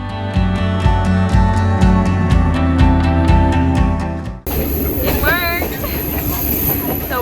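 A train pulls out of Kandy station in Sri Lanka with loud, rhythmic clickety-clack of wheels over rail joints, then shifts to a rumbling ride with high wheel squeals.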